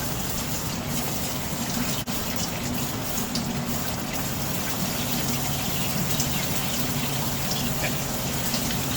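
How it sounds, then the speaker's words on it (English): A water jet quenching a hot steel rod from a furnace gushes strongly and steadily for several seconds, a continuous hissing rush with a faint click partway through. "You want the water to shoot to the bottom of the rod directly"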